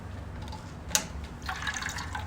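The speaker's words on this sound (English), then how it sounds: "Then the water will come out from the machine." Water draining from the outlet hole of a BR314 CO2 machine splashes and trickles faintly, with a sharp drip near the start and a soft, uneven flow after.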